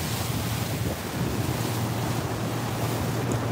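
Steady wind buffeting and rushing waves on the deck of a brand new Moon 60 power catamaran cruising up a river toward London, a constant loud wash with no voices.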